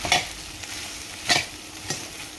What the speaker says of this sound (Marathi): परत एकदा ही भाजी छान अशी यामध्ये परतवून घ्यायची आहे